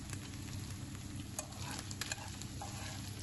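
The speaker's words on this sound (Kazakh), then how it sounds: "Етіміз қызарғаннан кейін пиязымызды салып қуыратын боламыз." Meat and onions fry in a pan with a steady, quiet sizzle, broken by a few soft stirring scrapes and light clicks, and no voices.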